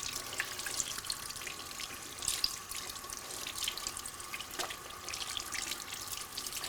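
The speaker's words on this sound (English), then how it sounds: "Now let's rinse your hands off." Water runs steadily from a sink tap as hands are rinsed beneath it, a continuous close hiss with faint splashes and no voices.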